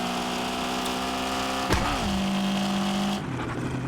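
A car engine in the video game Car Parking Multiplayer drones steadily and loudly, then jumps in pitch with a sharp rev partway through and settles again, running on without any voices.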